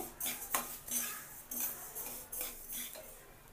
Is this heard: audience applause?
no